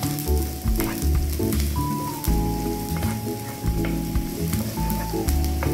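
Garlic fried rice (sinangag) sizzles and crackles steadily in a hot pan, a close, continuous frying hiss with stirring scrapes and no egg added.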